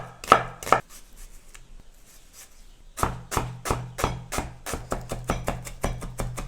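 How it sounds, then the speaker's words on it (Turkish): Onion being finely chopped with a knife for a Malatya geleli kebab: a few cuts, a pause, then a steady rapid run of crisp knife taps on a cutting board, close and alone. "Bir adet soğanı ince ince doğruyoruz."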